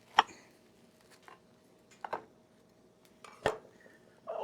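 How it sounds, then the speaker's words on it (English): A knife cuts through a fried bologna sandwich made with thick bologna slices, giving a few sharp, separate crunches and taps against a plate, close and fairly quiet with gaps between them. "I'm going to cut this sandwich in half."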